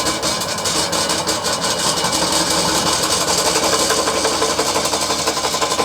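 A milling machine with a hand-sharpened 17mm cutter bores into a copper boiler, giving a loud, continuous, close chattering grind with a fast regular pulsing and no pauses.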